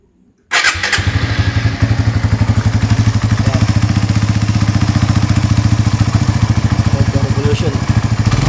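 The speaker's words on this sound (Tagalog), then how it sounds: "paparinig ko sa inyo ang tunog ng makina niya" A Suzuki GSX-S150 motorcycle engine starts and settles into a steady, loud idle with a continuous throbbing pulse, heard close to the exhaust.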